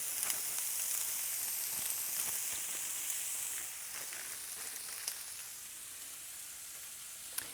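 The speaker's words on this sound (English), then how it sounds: "I just want to get the onion cooked a bit." Sliced onion and three-color deli coleslaw mix fry in a pan, giving a steady, close sizzle with soft crackles and occasional louder pops, alone with no voices.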